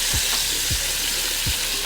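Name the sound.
onions, garlic and peppers toasting in a skillet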